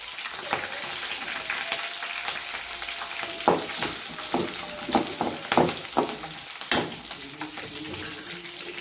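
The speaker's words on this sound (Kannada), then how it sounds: "ಮೆಣಸಿನ್ಕಾಯಿ ಹಾಕೊಳ್ದ, ಕರಿಬೇವು ಹಾಕೋಣ" Green chillies and curry leaves frying in a few tablespoons of hot oil, a steady close sizzle broken by sharp crackles and pops as a utensil stirs through the pan.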